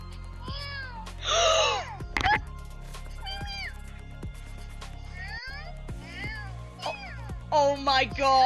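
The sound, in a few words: cat meowing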